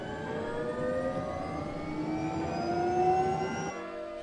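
A Tesla Model Y electric car in the Roblox video game revs up with a rising synthetic whine, several tones climbing together at moderate volume before cutting off abruptly; no speech.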